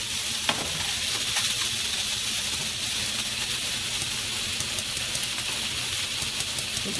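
Sausage browning in a frying pan, a loud, dense, continuous sizzle that holds steady throughout, with a few small pops and crackles near the start and no voices.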